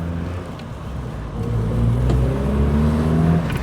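A Triumph Acclaim's exhaust drones steadily from inside the car while driving, a low rumbling engine note that swells slightly as it gains revs, with some raspy roughness in the tone.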